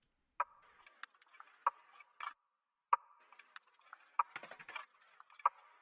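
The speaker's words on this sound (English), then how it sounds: "another XY Nothing percussion loop" A sparse, quiet percussion loop of small ticks, clicks and short rattly hits, tucked low in the mix of a soul sample beat, repeating in a loose pattern with no voices.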